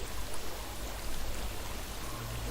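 Water in the video game Hellblade flows in a continuous, rushing stream, a dense hiss at moderate volume with no talk over it.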